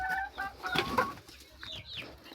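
Sonali chickens at a poultry farm cluck and squawk in short irregular bursts close by, with a brief flutter near the end.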